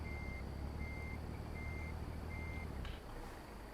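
A truck in American Truck Simulator backs into a parking spot, its reversing alarm beeping in a steady repeated pattern over a low engine rumble before the beeps stop.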